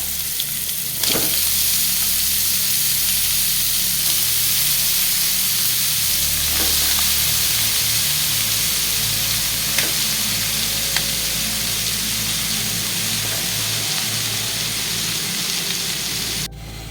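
Pea shoot greens fry in a hot pan with a steady, close sizzle and hiss that carries through the whole stretch, broken by a few sharp stirring clicks and no talking.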